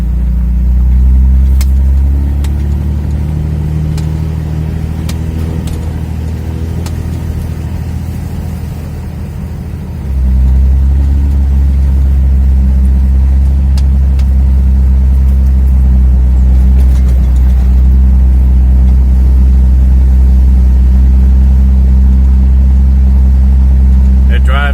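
A 2003 Dodge Ram 2500 with the 5.9 Cummins diesel pulls along in second gear, a loud, steady low drone that eases briefly and then swells back heavier, heard from close by.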